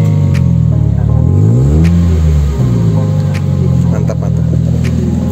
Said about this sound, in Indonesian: Kita tes suara knalpotnya ya.